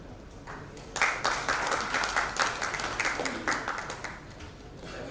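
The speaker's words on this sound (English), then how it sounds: "Can I have a little more round of applause, not only for the panel, but also for our moderator" Audience applause for a tech panel discussion at a conference in Dhaka, starting abruptly after a second of quiet room tone, then a lively burst of clapping that stays steady and slowly eases off.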